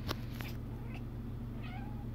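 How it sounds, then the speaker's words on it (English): A household cat gives brief meows at moderate distance over steady low background hum, with a doberman puppy nearby in a home. "Is there a kitty here?"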